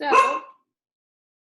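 A pet dog indoors gives a single short, loud bark close by, overlapping a spoken word before silence.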